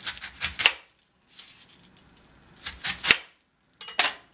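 A knife cuts the ends off an onion on a cutting board, giving several sharp chops close by in short clusters, separated by pauses.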